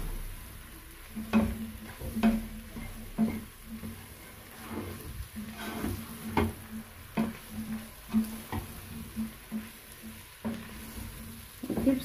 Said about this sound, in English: Keep stirring because you don't want it to stick at the bottom of the saucepan.